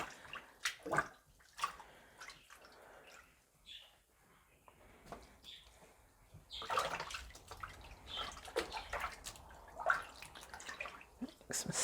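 Water runs from a faucet into a tub where fresh fleece is being washed, with splashing and sloshing in uneven bursts that grow busier partway through.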